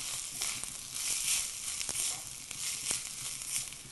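Spices, about ten peppercorns and grated coconut frying in a pan until brown, a faint continuous crackling sizzle with small irregular pops throughout.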